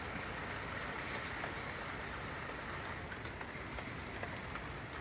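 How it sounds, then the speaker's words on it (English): Steady rain falling, a dense even hiss of drops pattering on surfaces, continuous and unchanging at moderate volume with no voices. "this is good rain."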